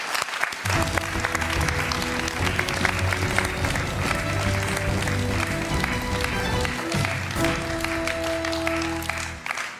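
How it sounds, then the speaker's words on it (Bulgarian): Strong applause from a studio audience for a contestant on a game show, a loud sustained burst of clapping with music underneath that briefly dips before resuming. "Силни аплодисменти за Елисавета."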